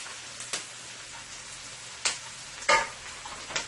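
Onions, garlic and carrots fry in a pan for a cabbage and chicken stir fry, a low steady sizzle broken by a few sharper crackles and stirring scrapes, moderately quiet.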